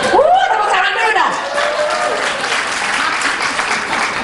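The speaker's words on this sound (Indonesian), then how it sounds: "Tepuk tangan dulu dong." An audience at a church sermon breaks into applause, a burst of clapping that swells at the start and carries on steadily, with a voice speaking over it early on.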